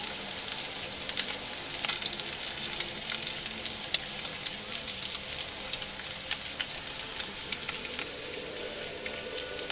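Bacon sizzles and crackles steadily in a cast iron skillet over a camp stove, a dense, close frying hiss with occasional pops and no talking.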